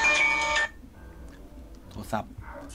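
A telephone rings loudly for about half a second in one tonal, buzzing burst, then stops, leaving quiet room noise and brief voices, with game sounds in the background.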